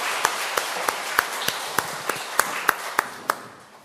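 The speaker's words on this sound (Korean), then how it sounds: "하나님께 영광의 박수를 보내겠습니다" A church congregation claps together in slow, evenly spaced single claps, about a dozen sharp hits at a steady rhythm, moderately near, fading at the end.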